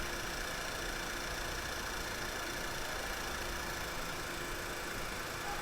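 A 2009 VW Tiguan 2.0 turbo engine idles with a dead misfire on cylinder 1, a steady, continuous close-up engine drone with no talking.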